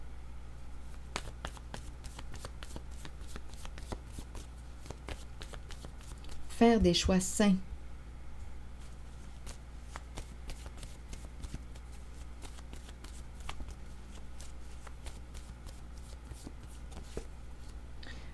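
A deck of playing cards is handled, with a short riffle-like burst of card shuffling and drawing heard midway under continuous French talk.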